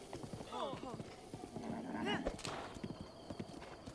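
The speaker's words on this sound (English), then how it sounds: "let's have a look at my horse" Horse in Zelda Breath of the Wild clip-clopping with hooves and neighing a couple of times, close and moderately loud, while a person talks over it.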